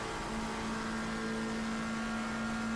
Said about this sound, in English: You can hear the engine really struggling